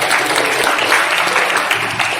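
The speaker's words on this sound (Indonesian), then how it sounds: "tepuk tangan untuk hari ini." Audience at a personality training seminar claps together, a loud, continuous wash of applause close by, lasting a couple of seconds without a break.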